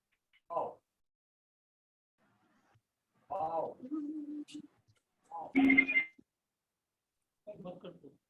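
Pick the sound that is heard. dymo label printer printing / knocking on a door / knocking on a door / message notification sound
message notification sound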